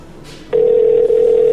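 A telephone ringback tone sounds over the line during a call, a single steady electronic tone starting abruptly and holding loud and continuous, with faint line noise before it.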